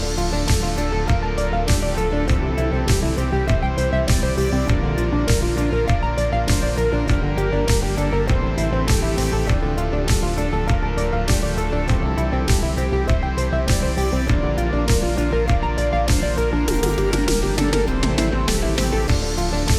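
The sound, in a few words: synthwave track made with Melbourne Instruments Nina synthesizer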